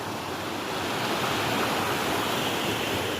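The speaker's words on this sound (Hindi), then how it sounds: "पानी मतलब कि चल रहा है, और शोर कमाल का है, पानी क्या कमाल का नज़ारा है यार। पानी गिर रहा है" Water falls in a mountain stream in Kashmir, a steady, even rushing hiss that holds for a few seconds with no pause and no voices.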